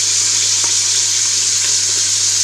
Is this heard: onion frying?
yes